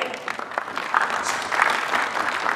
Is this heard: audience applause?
yes